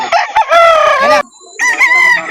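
A rooster at a chicken sale in Calauan crows loudly and close, two strong calls separated by a short pause, with no talk over it.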